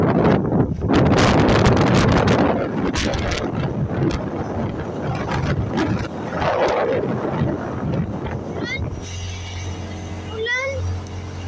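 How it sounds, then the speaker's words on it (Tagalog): Strong gusts buffet the microphone on the Panguil Bridge in the Philippines, a loud roaring rush that swells and eases, with people talking over it before a lower engine hum takes over near the end. "Lakas ng hangin."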